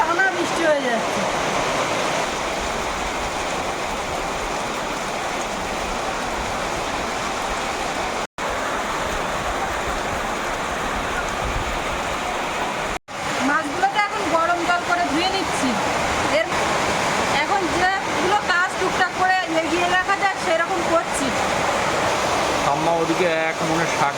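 Heavy rain pours steadily just after a storm, with wind-driven spray lashing one side of a door in a riverside home. The rush is dense and continuous, and a voice speaks over it in the later part.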